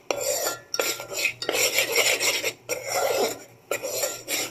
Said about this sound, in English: And as you can see, the flour is cooking right now.